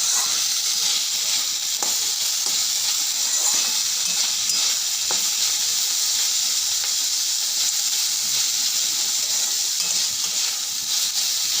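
Banana stem (thor) frying in a pan with a little sugar added, giving a steady, dense sizzle throughout, with occasional soft clicks of stirring and no talking.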